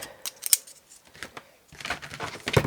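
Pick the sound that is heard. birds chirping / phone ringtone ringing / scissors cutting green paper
scissors cutting green paper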